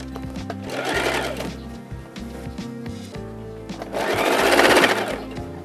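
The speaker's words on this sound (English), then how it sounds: "I'm ready to sew the edge." A sewing machine stitches the edge of a fabric piece that will take elastic. Two loud bursts of rapid, rattling stitching come up close, separated by quieter clicking and handling noise.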